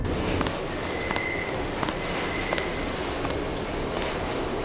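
Train in the video game Deus Ex, a steady low rumbling rail hum with faint periodic clacks and a thin whine, loud and continuous throughout without any talk.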